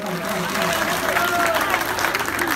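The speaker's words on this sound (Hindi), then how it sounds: "ताली बजा दें सभी लोग जोर से," An audience at a Durga Mandir programme in Tulsipur, Dang claps after a song, a loud continuous patter of many hands with a tonal musical hum running through it.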